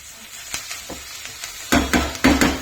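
A tomato curry stirred in a pan, light scraping taps at first, then louder rhythmic scrapes of a spoon against the pan over a soft sizzle.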